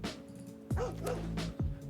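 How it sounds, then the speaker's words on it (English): Two short, faint dog barks about a second apart over a steady low electrical hum in a quiet room. "Bark, Bark."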